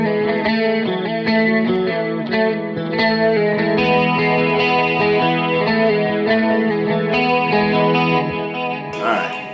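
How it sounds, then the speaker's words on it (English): An 80s-style clean electric guitar runs through the tri-chorus setting of an H9 pedal, giving shimmering, wide chords that ring continuously at a loud, even level, with a short noisy scrape at the very end. "80s clean kicks on that tri-chorus, which is my favorite of the chorus sounds, at least currently in the H9"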